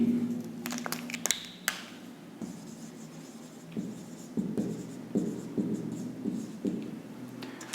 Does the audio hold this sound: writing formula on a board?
yes